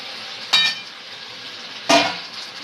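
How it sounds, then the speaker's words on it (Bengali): Fried chicken pieces go into well-cooked spiced masala in a pan for a chicken curry. Two sharp, loud bursts of scraping and sizzling stand out over a low, steady frying hiss. "এবার আমি যে ভেজে রাখা মাংসগুলো এইগুলো দিয়ে দেব।"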